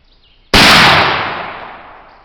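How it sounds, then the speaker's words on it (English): A single rifle shot fired with a Swiss black powder load, one loud close blast that decays over about two seconds, with no talking. "Okay, shot number 2."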